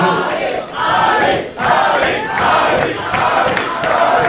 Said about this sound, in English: the people cheering for Auli right before Azoulay's gonna give his speech